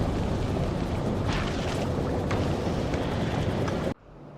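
Capture bot rockets launch in the video game Factorio with a continuous loud, roaring rumble that holds steady for several seconds, then cuts off abruptly to a quiet hum.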